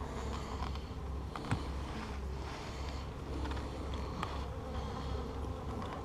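Many agitated honeybees buzzing continuously close by during a hive inspection, a faint agitated drone with occasional louder passes near the microphone.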